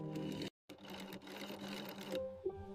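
Sewing machine stitching frog leather goods on a factory line, a steady close mechanical whir that cuts out briefly and resumes, with a higher whine near the end.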